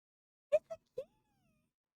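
A cartoon cat in the video game LIVBER gives three quick, quiet meows in a row, then a faint thin tone lingers before silence.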